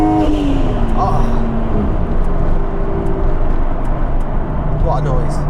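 A Nissan R34 GTR V-Spec Nür with about 550 bhp and an aftermarket clutch, its engine a loud, close, continuous drone with shifting tones as it pulls, and a voice briefly heard over it.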